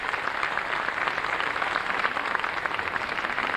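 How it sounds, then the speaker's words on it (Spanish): A ceremony audience at the inauguration of an Argentine commission bursts into steady, continuous applause, a dense wash of many hands clapping from a large hall with no voices heard over it. "fuerte ese aplauso para el profesor José Lacabe"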